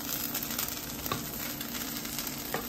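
A thick pancake sizzling in a frying pan, with a steady moderate sizzle and a couple of soft clinks of a utensil, no talking.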